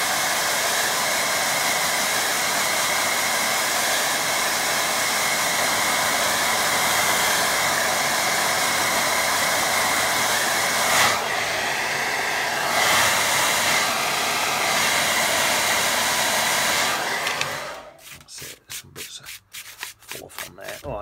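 A hair dryer blows steadily on a watercolour painting, a loud continuous whooshing roar that runs for most of the time, then cuts out near the end, leaving a few faint clicks and handling noises.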